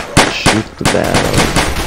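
Gunfire in the zombie shooter Zombie Panic! Source as a barrel is shot: a quick series of sharp, loud shots in an uneven burst, close and punchy, with no talk.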